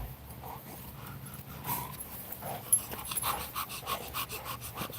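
On a farm, dogs pant and scuffle about at close range while their feet patter quickly over the ground in an uneven rhythm, and a few stronger thumps stand out along the way.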